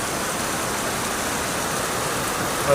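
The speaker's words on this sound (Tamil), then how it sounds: "மலேசியாவில் கனமழை பெய்து கொண்டிருக்கிறது." Heavy rain pours down in Malaysia, a dense, even wash of broadband hiss that holds steady throughout without any talk.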